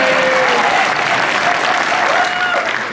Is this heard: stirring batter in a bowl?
no